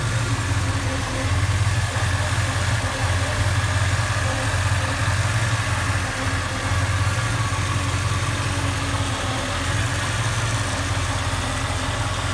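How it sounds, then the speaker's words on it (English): A 1989 Chevy Silverado pickup's V6 idling in the engine bay, a steady, smooth low rumble with a constant hum that stays even and fairly quiet throughout, with no talking over it. "Have it running here just to show you how quiet it is."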